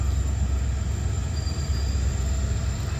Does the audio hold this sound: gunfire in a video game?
no